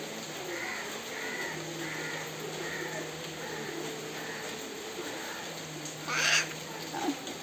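A crow caws outdoors on a rainy day, a run of regular harsh calls at moderate distance, followed by a louder, closer burst near the end over soft background noise.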